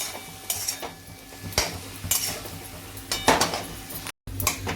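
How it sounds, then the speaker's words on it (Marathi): Spoon scraping and clinking in a pan while potato vada filling with coriander and salt is sautéed, giving intermittent stirring knocks and scrapes over a faint low sizzle, close and moderately loud. "आता हे सगळं छान परतून घ्यायचं"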